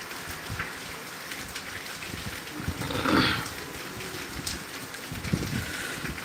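Heavy rain pours down in Tangail, Bangladesh, a dense continuous patter with a few louder splashes and gusts rising midway; no one speaks.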